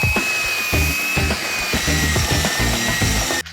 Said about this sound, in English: do this a different way with a bigger drill bit just in the top